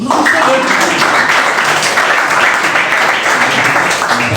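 A church congregation at a worship service breaks into sustained applause, a dense steady wash of many hands clapping at even loudness throughout, with faint voices mixed in.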